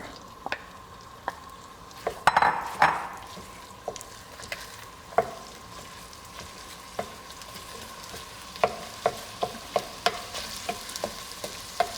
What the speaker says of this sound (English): I'm gonna start with just a little bit of olive oil in the pan, and then follow that up with the sausage.